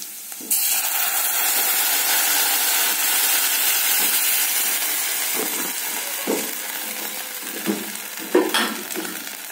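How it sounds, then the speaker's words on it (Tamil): Rice cake batter with coconut poured into a hot pan of oil or ghee, a steady loud sizzle and hiss that holds throughout, with a few soft stirring scrapes and clinks near the end. "இப்போ இந்த மாவு ஊற்றிடலாம்"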